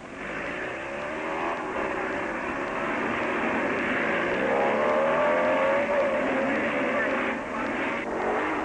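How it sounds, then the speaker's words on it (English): About 200 motorcycles racing in the 1957 Catalina Grand Prix, engines droning and revving in a continuous blended roar, with narration over it. "There are about 200 bikes in this race, and at 30-second intervals, the groups lead the line."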